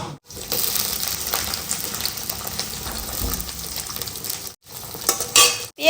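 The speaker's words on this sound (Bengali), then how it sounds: "ফোড়নটা ভাজা হয়ে গেছে এবারের মধ্যে আমি দিয়ে দেবো পেঁয়াজগুলো" Onions frying in a pan with tempered spices for a lentil dish, a steady loud sizzle with stirring and clinks of utensils, briefly breaking off twice.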